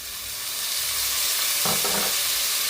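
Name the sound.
chopped tomatoes added to sautéing onions in pan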